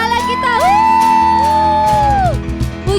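A children's church congregation at a Pekanbaru Sunday service cheers and shouts for God in a loud, sustained burst of voices over a wavering musical tone.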